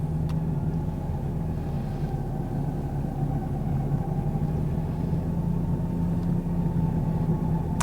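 An X-Bull 13000 lb or Warn medium duty winch hauls a load while the vehicle engine idles, a steady low rumble and motor drone holding evenly throughout with no talk.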